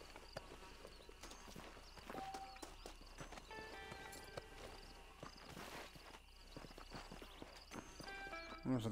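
Horse hooves clip-clop at a steady walking pace in the video game Red Dead Redemption on PS5, fairly close and moderately loud, mixed with other soft in-game sounds.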